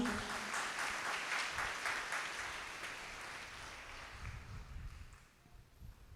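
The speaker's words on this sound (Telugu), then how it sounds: "నమ్మిన వాళ్ళు గట్టిగా చప్పట్లు కొడదాం" A church congregation at the Koduru Mata shrine claps together during a rainy service, a soft broadband patter of many hands that thins out toward the end over a low rumbling background.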